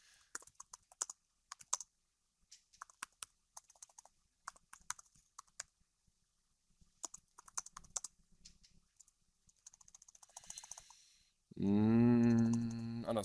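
Bursts of clicky typing on a computer keyboard during a programming demo, irregular runs of keystrokes with pauses, ending with a loud tonal sound.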